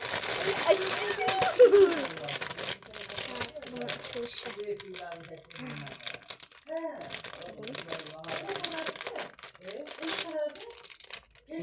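Close crinkling and rustling of a Labubu toy's plastic packet as it is torn and opened, in irregular bursts, with a voice talking over and between the sounds.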